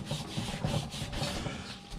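A Scotch-Brite pad scuffs surface rust off the back side of steel LS swap exhaust headers, giving a steady, close rubbing rasp in quick repeated strokes with no talking.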